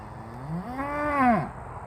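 A cow moos once in a field where geese have landed, a single drawn-out, rising then falling bellow, close and loud over a quiet outdoor background.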